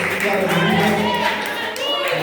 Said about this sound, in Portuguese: dando uma salva de palmas para Jesus nesta noite